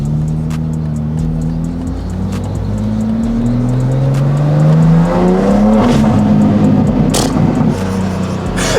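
A BMW G87 M2 fitted with titanium intakes revs loud and close, its engine note climbing and falling in sweeping pulls with a couple of sharp blips, heard alone without talk.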